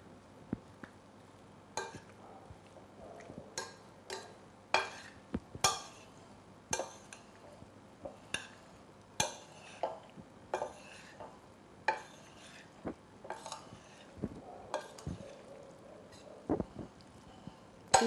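Boiled penne pasta salad is tossed with a utensil against a bowl, giving irregular clinks and scrapes every second or so, close and fairly quiet, with no voices.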